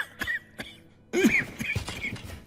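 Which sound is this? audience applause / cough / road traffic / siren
cough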